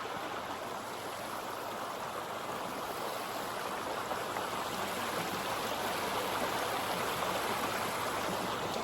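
A stream of water flows steadily and close by, its broadband rush and trickle holding constant throughout with no other sounds on top.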